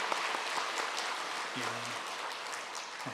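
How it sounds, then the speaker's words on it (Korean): A church congregation claps steadily for a few seconds during a Sunday service, a dense wash of applause heard from a moderate distance. "하나님께 감사의 박수하겠습니다"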